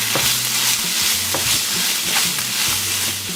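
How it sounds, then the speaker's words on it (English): Soy curls stirred with garlic powder in a hot pan, a continuous sizzle with repeated scraping strokes of the utensil across the pan at a steady rhythm. "I'm going to put about 1/2 teaspoon of garlic powder. And I'll give this a bit of a mix first."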